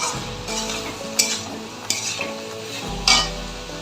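Salt and sugar are stirred into a pot of potato and chana dal, a soft background sizzle broken by three or four louder scraping sweeps of the spoon.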